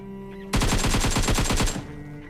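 A rapid burst of automatic gunfire from PUBG Mobile rattles out in an even stream for over a second, loud and close over a faint game background hum.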